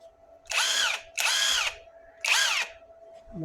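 An HF Hercules cordless impact driver runs in three short, loud whirring bursts with brief pauses between them, close by, with no voices.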